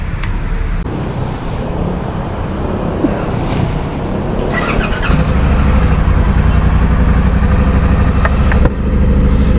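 A Triumph Trident 660 motorcycle engine hums steadily on a test drive, rising slightly in level toward the end, mixed with road and wind noise and no speech.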